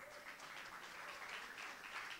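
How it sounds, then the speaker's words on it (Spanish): A church congregation applauds continuously, with dense, even clapping that sounds somewhat distant and faint. "Dele un aplauso al Señor."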